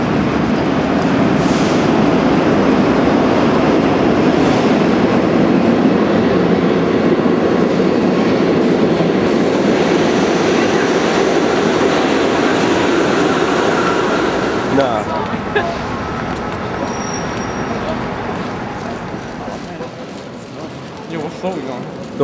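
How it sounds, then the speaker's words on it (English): A subway train rumbles loudly into the station with a steady roar that gradually eases off as it slows, a faint squeal near the end. "Our train just is here."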